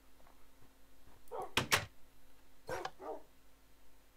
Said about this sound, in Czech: Tady jsou vlcí.